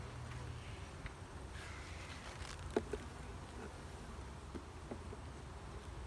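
Honey bees buzz around an open beehive during an inspection, a faint, continuous swarm hum with a few light clicks and knocks of frames, and no voices.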